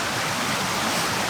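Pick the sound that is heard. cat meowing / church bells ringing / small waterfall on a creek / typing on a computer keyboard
small waterfall on a creek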